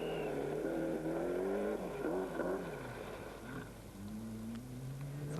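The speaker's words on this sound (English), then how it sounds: "25 years old in the second of the Malcolm Wilson prepared Michelin Ford Escort Cosworth." A Malcolm Wilson-prepared Michelin Ford Escort Cosworth Group A rally car on the 1993 RAC Rally, its engine droning and revving steadily with shifting pitch, heard at moderate distance with no speech.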